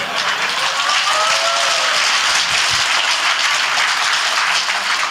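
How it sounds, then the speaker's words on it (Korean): Audience applause during a lecture, a dense, steady wash of many hands clapping at once, loud and sustained throughout with no pauses. "이게 박수 쳐주니까 더 힘이 나네요."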